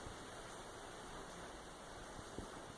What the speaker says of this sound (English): just enjoy the sound of the rain